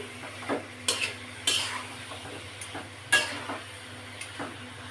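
Cauliflower florets stirred and sautéed with spices in a pan, with a handful of scattered scraping clinks of a spoon against the metal over a soft, steady sizzle, close and moderately quiet.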